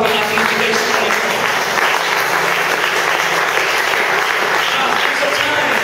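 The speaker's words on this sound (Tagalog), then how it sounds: "Isang masigabong palakpak ang ating bigay sa Panginoon." A church congregation at a sermon breaks into loud, sustained applause, dense steady clapping from a large crowd filling the whole stretch without a break.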